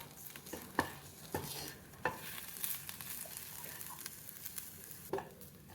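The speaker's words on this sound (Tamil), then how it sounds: "நான் பச்சை தேங்காய் சேர்க்குறதுனால தனியாக வறுக்கிறேன்" Grated fresh coconut is roasted in a pan, with a soft steady sizzle and occasional spatula taps and scrapes, quiet and close with no talk.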